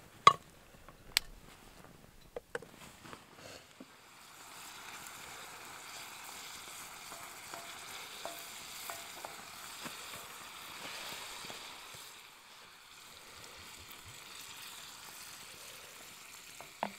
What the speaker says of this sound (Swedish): Och sen har jag smör som jag ska sätta i stekpannan.